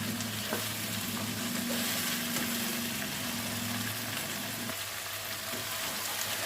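Ridge gourd (tori) with tomato frying in a pan, giving a steady, loud sizzle that holds for the whole stretch, with a low hum running underneath.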